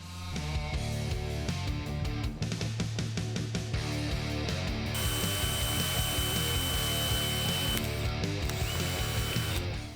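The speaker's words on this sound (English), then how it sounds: "drill my pilot hole here" A power drill whirs steadily with ratcheting, mechanical clicks, boring a small pilot hole for a Harley-Davidson saddlebag hinge cover over a continuous tonal background.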